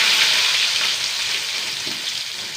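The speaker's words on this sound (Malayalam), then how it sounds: "ഇപ്പം എണ്ണ ചൂടാവട്ടെ. കടുകിട്ട് കൊടുത്തു." Mustard seeds and dried chillies sizzle and spit in hot oil, a steady close frying hiss that holds throughout without any talking.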